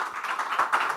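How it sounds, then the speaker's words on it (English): Brief applause from a conference audience for panelists on stage at a PropTech and co-working panel, a short patter of claps at moderate distance. "Can we at least hear a round of applause for our panelists on stage?"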